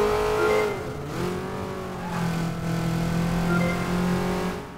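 A car engine revving while driving in the video game Crackdown, with a sharp pitch swoop as the car changes gear early, then a steady hum with rising revs, loud and alone without talk.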